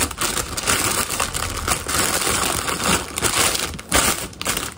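Plastic wrappers and packaging from a summer beauty subscription box crinkle and rustle continuously at close range as the box is unpacked, a dense, busy crackling with no pauses.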